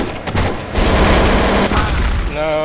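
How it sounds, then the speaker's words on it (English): Automatic shotgun firing in the video game Counter-Strike: Source, a loud burst of rapid blasts and booms packed closely together, with a voice briefly audible near the end. "Someone's got an auto shotty."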